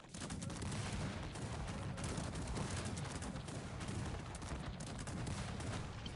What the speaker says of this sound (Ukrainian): А гарматки накидають, подиви як